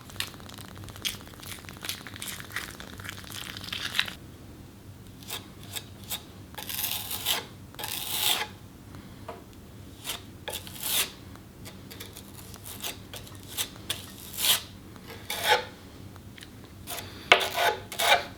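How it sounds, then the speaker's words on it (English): Putty knife scraping and pressing gritty filler compound into deep holes on an arcade cabinet being prepared for paint; irregular rasping strokes in bursts, close and fairly loud, with pauses between passes. "These holes are pretty deep, so I'm going to fill them, kind of like just push down the compound into it."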